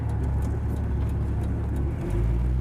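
A 1966 Ford Mustang driving and turning, heard from inside the car as a steady low engine rumble and road whir, with the engine note rising slightly toward the end of the turn.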